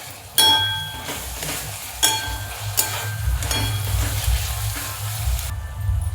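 Onion and curd fry in a pan with a steady crackling sizzle, punctuated by several sharp clinks and scrapes of a spoon against the pan.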